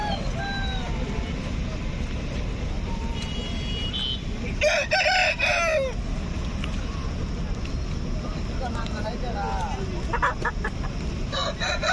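Roosters crow and chickens cluck at a busy poultry market in Gudur, with one crow loud and near amid a constant crowd murmur and voices talking.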